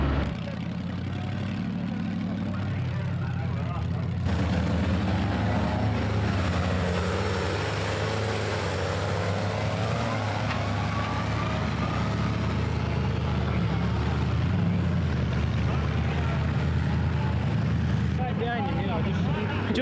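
A twin-engine pulling tractor with two 7.5-litre engines making 1350 horsepower through Chrysler TorqueFlight automatics roars steadily at a 1985 tractor pull, its pitch rising and falling, while someone talks over it.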